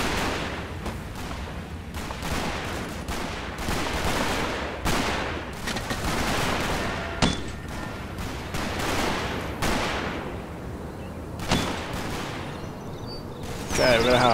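Artillery rounds falling across a World War II battlefield in Italy in the Combat Mission Fortress Italy war game, a dense run of booming impacts and crackling gunfire filling the whole stretch, with sharper blasts standing out near the middle and end.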